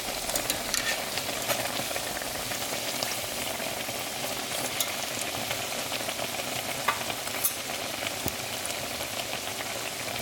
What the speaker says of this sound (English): flip it over and let the other side fry until it's the same